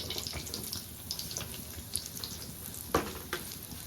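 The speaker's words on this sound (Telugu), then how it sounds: "కొబ్బరి వేగిపోయిందండి, దాన్ని కూడా పక్కకు తీసేసుకుందాం" Fresh grated coconut frying in a pan for a mango coconut chutney: a steady soft sizzle with a few sharper crackles and scraping stirs, close by.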